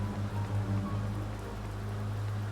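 Steady rainfall in the horror video game The Beast Inside, a soft continuous patter and hiss over a low hum, fairly quiet and even throughout with no voices.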